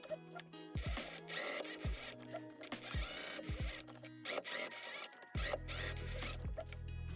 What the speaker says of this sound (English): And now I can sew in all of the fold lines, and I'm gonna sew right until that marked dot right here